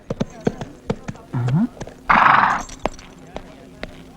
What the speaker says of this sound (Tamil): என்னையா குதிரையில வந்திருக்க?